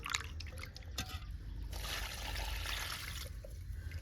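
Water poured from close by onto a freshly pruned rose plant, a steady trickling and splashing stream running for several seconds without a break.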